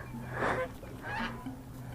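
A bird hisses at close range in two breathy bursts about a second apart, fairly quiet over a low background hum.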